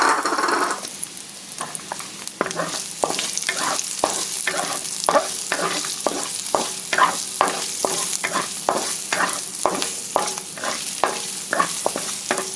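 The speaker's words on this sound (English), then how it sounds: "Now I'm going to throw in my shiitake mushroom." Shiitake mushrooms fry in a hot pan for Vietnamese crispy chow mein, a steady sizzle broken by repeated rhythmic scrapes and stirring clacks of a utensil, close and alone without talk.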